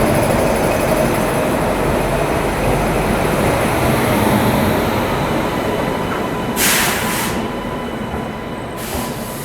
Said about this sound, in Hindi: देहरादून शताब्दी का यहाँ पे अराइवल हुआ है